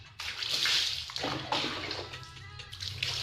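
Water splashes and sloshes as a face is rinsed, with several soft bursts and a steady watery wash, close and moderately quiet.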